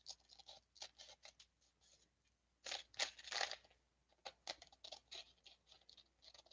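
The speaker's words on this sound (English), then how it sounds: "I'm just going to trim up the excess here." Scissors snip and trim excess paper during a paper craft project, a run of crisp, scratchy cuts in short irregular bursts with a louder cluster midway, close and alone.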